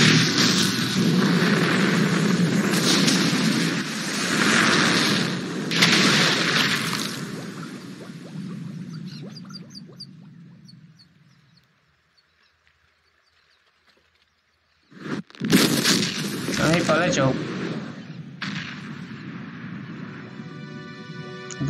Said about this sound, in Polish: Tak jest, się rozwalił ten plecak odrzutowy.